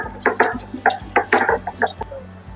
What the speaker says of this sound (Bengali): আমি শিলে বেটে দিচ্ছি